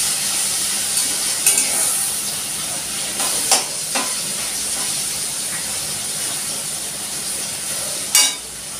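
Small, finely chopped chicken pieces fry in a generous amount of oil for chow mein, making a steady close sizzle and hiss throughout. A few sharp scrapes of stirring rise briefly above the sizzle, and no one speaks.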